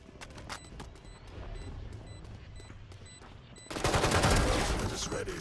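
Stinger submachine gun fire in a video game: quiet ticking at first, then a sudden loud rapid burst of shots in the last couple of seconds.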